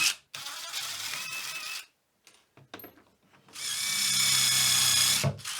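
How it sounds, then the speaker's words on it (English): Power drill boring holes into a gear-driven footrest in a workshop, two loud sustained whirring bursts separated by a short pause with small handling knocks, no talk. "I'll put a temporary screw in there so I can drill the other 2 holes accurately."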